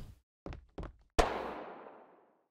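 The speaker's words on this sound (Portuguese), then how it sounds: "Rolando uns tiros aqui já." Three sharp gunshots from the video game Extopia, followed by a louder blast that rings out and fades slowly; no talking.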